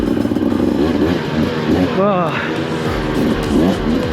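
A 2025 KTM 300 XCW Factory Edition dirt bike on a fall ride, its engine running and revving in the background while someone talks over it nearly the whole time.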